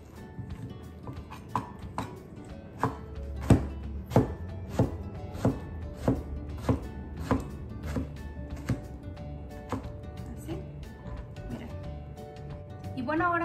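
Mango being chopped into small pieces on a cutting board in a kitchen while making mango paletas with chamoy: a steady series of about fifteen sharp knife thunks, close and evenly spaced, over a background hum.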